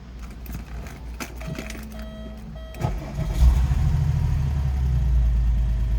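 Chimes and clicks sound before a 1996 Porsche 911 Carrera engine cranks and catches, then settles into a steady, deep idle rumble close by.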